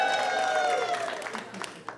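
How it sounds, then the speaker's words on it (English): A comedy show crowd claps steadily, the dense applause gradually tapering into a few scattered claps, with a voice faintly under it. "Clap if you like to clap."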